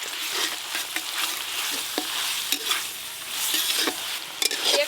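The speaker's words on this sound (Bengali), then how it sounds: "এবার আদা রসুন বাটা দিয়ে ভালো করে ভেজে নেব" Chopped onions frying with ginger-garlic paste in a pan, a constant close hissing sizzle with repeated scraping stirs and clicks of a spatula throughout, no voices.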